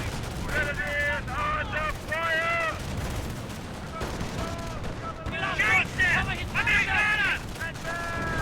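Frag grenade blasts and rattling gunfire in Company of Heroes, bursts of shots and explosions clustered in two volleys with a brief lull between, over layered battle noise and faint unit voice lines.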